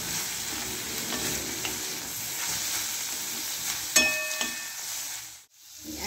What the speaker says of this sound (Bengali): একটু কাজু দিয়ে দিলাম, দিয়ে হালকা করে ভেজে নেব